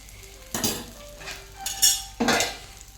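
Onion greens roast in oil in a pan, with soft crackling under a few sharp bursts of stirring and the clink of a utensil against the pan, heard up close without talk.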